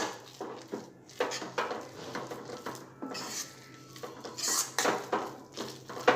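Gram flour batter with grated raw potato is stirred in a bowl, with a utensil clinking and scraping against the sides in irregular bursts, fairly close and with no speech.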